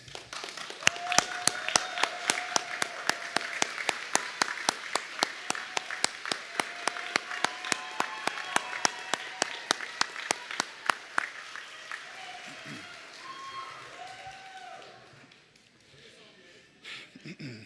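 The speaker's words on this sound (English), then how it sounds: "I ask my fellow graduates to show appreciation by briefly standing and giving them all a big round of applause." Graduates at a college convocation ceremony stand and give a big round of applause, dense clapping with sharp claps standing out over the crowd, gradually thinning and fading toward the end while a voice speaks.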